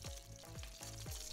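Meat sears in hot oil inside a kazan cooking pot, a steady close sizzle and fry broken by several scraping stirs in a regular rhythm.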